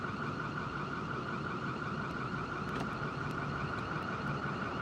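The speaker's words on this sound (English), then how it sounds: "There's an alarm going off." An alarm sounds outdoors as a steady continuous electronic tone with a constant background roar, faint rhythmic pulses on top, no talking, filling the whole stretch.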